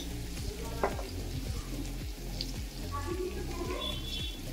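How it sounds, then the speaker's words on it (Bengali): Chicken with sliced tomato, coriander and cumin powder sizzles steadily in a pan while being stir-fried for chicken kosha, with spatula scrapes and stirring knocks over the continuous frying hiss. "তো সমস্ত মশলাগুলোকে আমি আবার ভালো করে কষিয়ে নেব।"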